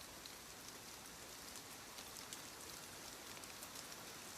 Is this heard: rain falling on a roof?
yes